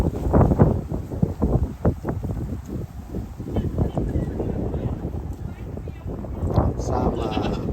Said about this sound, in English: I came here just to see these different goats